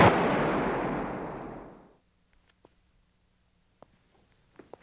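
A loud, booming explosion that decays over about two seconds into near silence, followed by a few faint scattered clicks.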